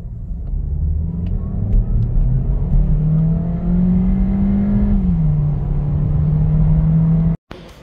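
A Cupra Ateca with a 1.5 TSI 150 hp engine, front-wheel drive and DSG gearbox pulls hard in a short sprint, its engine note climbing, briefly dipping at a shift, then droning loudly before cutting off abruptly.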